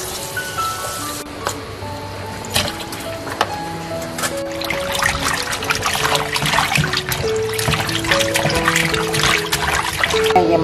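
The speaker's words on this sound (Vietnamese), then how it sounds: "Rồi giờ mình rửa tép cho ta" Small shrimp being rinsed by hand in a basin of water, with trickling splashes and dribbles that grow busier and louder partway through, close and alone.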